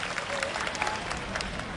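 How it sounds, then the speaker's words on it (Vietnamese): A group claps together in a dense, steady round of applause during a morning warm-up session, with voices mixed in under the clapping. "một tràng vỗ tay cho chính chúng ta"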